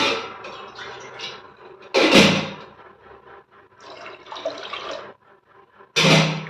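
Water poured into mashed green gram in a cooking pot, two short loud splashing bursts separated by quieter kitchen clatter and handling.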